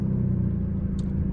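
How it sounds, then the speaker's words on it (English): A Hyundai Elantra N's exhaust rumbles steadily at idle, a deep, loud drone close by with a brief higher hiss near the end. "just to hear that exhaust"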